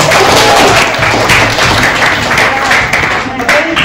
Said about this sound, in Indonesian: Dan yuk tepuk tangan buat kita semuanya.